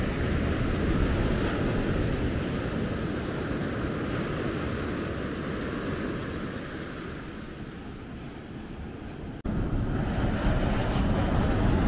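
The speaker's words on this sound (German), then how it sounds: "seht ihr, wie die Wellen noch von vorne kommen und von der Seite zurück" Surf at Maspalomas beach on Gran Canaria, waves rolling in from the front and washing back from the side, a steady broad roar mixed with wind buffeting the microphone, loud and continuous with a brief drop before resuming.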